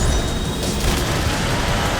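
Cannon weapon fire in the racing video game WipEout HD Fury, a loud burst of rapid booming blasts with gritty crackling noise lasting about two seconds.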